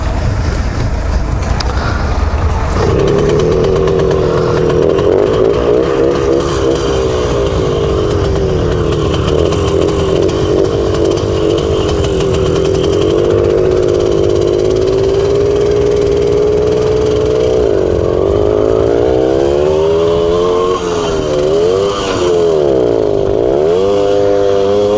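A Romet Motorynka moped engine buzzes loudly and continuously at close range while being ridden. The pitch holds steady, then rises and falls with revving and gear changes toward the end.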